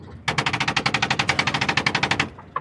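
A car alarm fitted to sound like machine-gun fire gives a rapid burst of about twenty sharp, even cracks over roughly two seconds, loud and close, followed by a single faint click.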